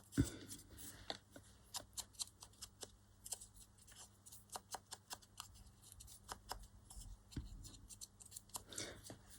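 Paper being torn in small bursts around a postage stamp, a string of close, quiet, crisp rips and rustles with short pauses between them and no speech.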